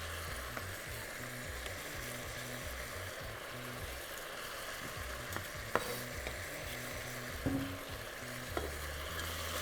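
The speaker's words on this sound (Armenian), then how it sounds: "Հիմա ավելացնելու եմ սոխը" Onion fries and is stirred in a pan, giving a steady close sizzle with scraping stir sounds and occasional clicks of the utensil, under a low background hum.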